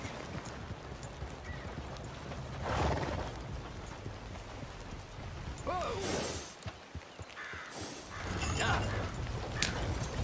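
Horse hooves from Red Dead Redemption 2 beat a steady clip-clop at a ride, with a brief whinny and rustling ambience around them.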